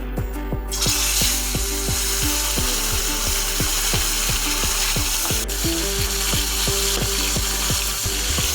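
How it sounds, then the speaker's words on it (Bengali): Salt-rubbed katla fish pieces fry in hot oil in a kadai for dahi fish, a continuous loud sizzle with regular ticking clicks running throughout and no talking. "এখন আমরা এই গরম তেলে 45 মিনিট ধরে লবণ মেখে রাখা কাতলা মাছের পিসগুলো"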